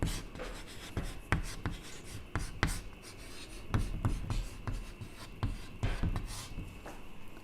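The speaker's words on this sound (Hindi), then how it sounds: "शॉर्ट में मैं लिख रही हूँ" Handwriting during a Hindi lecture on logic, with quiet irregular scratching strokes and light taps of a writing tool on a surface, faint and close with no talking.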